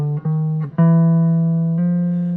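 A single sustained melodic line demonstrates the bebop scale, a few short notes stepping into one long held tone that rings steadily and fades slightly, clean and close with no talking.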